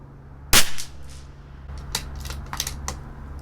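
A single sharp crack from a CZ 457 LRP rifle with an IBI barrel firing Eley Tenex ammunition, close and loud, followed by a few lighter clicks and handling sounds outdoors.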